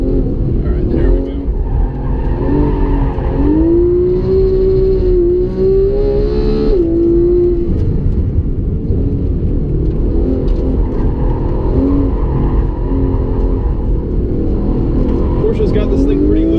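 A Porsche 911 GT3 driven around a figure-eight course, its engine loud and close from inside, rising and falling in pitch as it accelerates and eases through the loops, with someone speaking over it.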